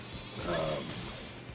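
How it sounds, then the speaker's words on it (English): A horned sheep in the game Atelier Ryza 2 gives a single wavering bleat, fairly quiet and brief, over a soft background. "So I'm kind of like fantasy rams. Yes, a horned sheep."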